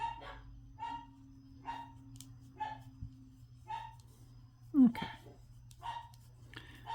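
Dogs bark repeatedly in the background, fairly faint and evenly spaced, with a brief spoken word partway through and a low hum underneath.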